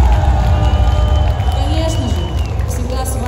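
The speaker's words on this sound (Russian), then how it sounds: "аплодисменты!" Club concert crowd in Ufa at the DOM PECHATI venue cheers and whoops in a loud, busy roar, with a voice speaking over the noise throughout.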